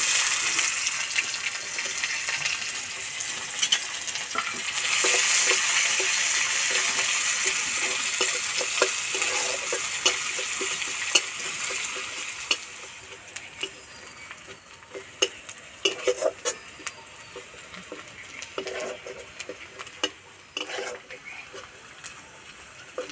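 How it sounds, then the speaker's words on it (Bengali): Chopped onion and garlic sizzle in hot oil in a village kitchen pan, a bright steady frying hiss broken by scraping stirs that become more frequent and clattery as the sizzle fades. "পেঁয়াজ আর রসুন ভাজা হয়ে গেছে খুব সুন্দর গন্ধ গেছে"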